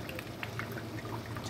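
Liquid egg substitute (Egg Beaters) poured into a hot pan, giving a steady, close hiss and soft splattering that runs evenly throughout with no talk.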